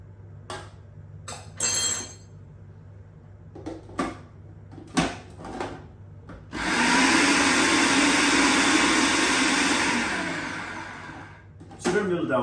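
Food processor half-milling oats with baking powder, a few short knocks and clatters, then a loud steady whirring grind of about four seconds that winds down, followed by another clunk.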